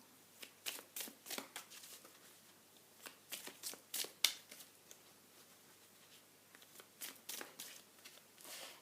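Oracle cards being shuffled by hand, quiet papery riffles and slides in irregular bursts with short pauses between, close and soft, with no talking.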